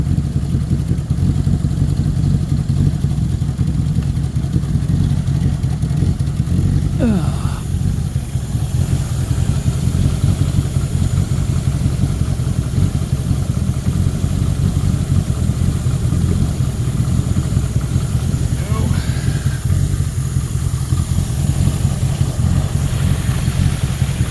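An engine running on pre-mix fuel sits at a steady, low idle with its carburetor not yet adjusted, a continuous close rumble with light mechanical clatter throughout and no talk.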